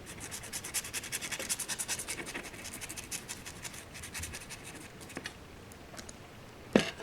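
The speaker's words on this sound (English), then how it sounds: "put a little bit on a towel, I just keep dabbing it until there's very little on there, and then just rub it on" A towel lightly loaded with masonry paint rubs across a scratch-built model riverside bridge, making soft, close scratchy strokes in a quick uneven rhythm that slow and thin out, with a small sharp knock near the end.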